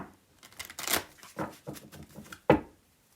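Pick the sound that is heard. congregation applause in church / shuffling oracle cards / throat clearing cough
shuffling oracle cards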